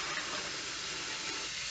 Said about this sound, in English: So I'm just going to use cold tap water.